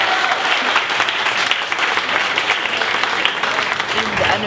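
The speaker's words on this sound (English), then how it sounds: "Y'all give her a applause" An audience at Apache Cafe applauds performer Adán Bean with dense, steady clapping that stays loud and close throughout.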